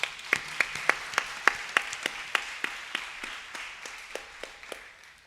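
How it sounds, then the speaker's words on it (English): Clapping at a Kuchipudi dance debut honors the mridangam player. Evenly spaced, sharp claps keep a steady beat for several seconds and fade slightly toward the end, heard alone without voices. "let's please give a round of applause to Sri Satyanarayana Sriram on the Mridangam"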